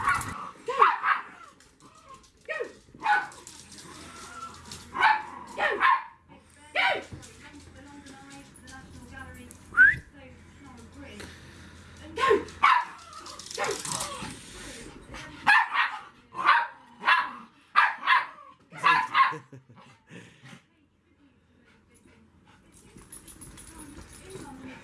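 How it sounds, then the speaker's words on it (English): A dog barks at ducks outdoors, giving repeated sharp barks in uneven bursts with some whimpers and yips between them. A person talks now and then, and the clip trails off into quiet at the end. "Maybe he's going to bark at the ducks instead."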